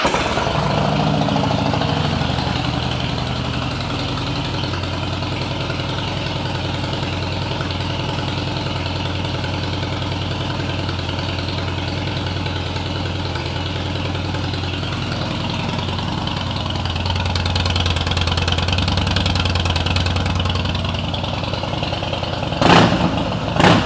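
A 2007 Harley Davidson Heritage Softail motorcycle engine idling steadily and close, a deep loping rumble holding even for the whole stretch, briefly swelling near the end before a couple of sharp knocks.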